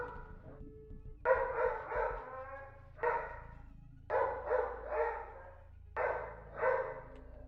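A dog named Orville barks repeatedly in Borderlands 3 DLC gameplay, fairly close and distinct, in short bursts of two or three yaps separated by brief pauses.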